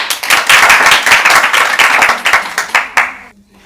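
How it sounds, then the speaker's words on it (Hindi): An audience claps together at a quiz show to welcome a doctor, a dense burst of many hands that stays loud and close for about three seconds before it thins out and stops. "आप लोग तालियां बजा करके हमारे डॉक्टर साहब का स्वागत कीजिए।"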